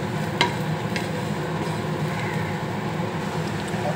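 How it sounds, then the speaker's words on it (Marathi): Spices such as mango powder and cumin being stirred together for potato burger tikki in a home kitchen: a steady soft scraping and stirring texture, continuous and close, with a faint background hum and no talk. "आता मिक्स करूया।"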